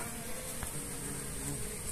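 A steady, soft buzz of honeybees at a hive hums throughout, many bees droning, with no voices.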